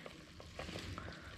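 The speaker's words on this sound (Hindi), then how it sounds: "इसको मिक्स कर देते हैं।" Cooked chicken dum pukht being stirred in a pot, with short scraping and light sizzling sounds in quick irregular strokes, close and fairly soft.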